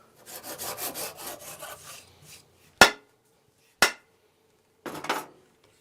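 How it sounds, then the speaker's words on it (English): A Shinto rasp shaping wood, heard as a run of steady rubbing, rasping strokes, then two sharp knocks and a final short scraping burst, close and moderately loud with no talking. "if you're going to do any type of wood shaping, get yourself a Shinto rasp"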